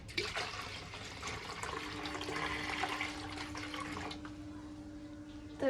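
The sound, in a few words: water being poured into a fish pond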